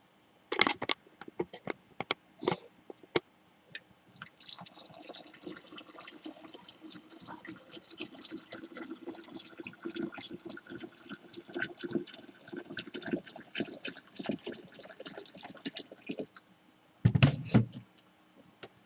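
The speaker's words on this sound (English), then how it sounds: "So I'm going to go ahead and add my water." Hot boiled water poured into a container for homemade hooch makes a steady, close splashing and filling sound for about twelve seconds, with a few clinks and knocks before it and a brief louder knock near the end.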